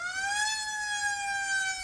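An ambulance siren in a spoken story sound effect, a steady wailing tone that rises slightly then holds, loud and close, alone without talk.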